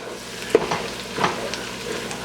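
Mirepoix browning in a pan for chicken pot pie soup, a soft steady sizzle with a few sharp stirring clicks and scrapes, close and alone without talk.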